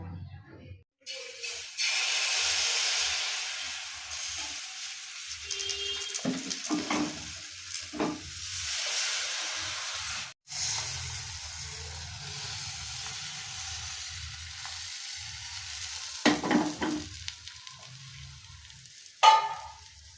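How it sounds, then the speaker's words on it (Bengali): Patishapta pitha, thin sweet crepes, fry in a pan with a soft steady sizzle and hiss, broken by occasional clinks and scraping of a utensil, fairly quiet and close. "এইভাবে আমি প্রত্যেকটা পিঠে ভেজে নেবো"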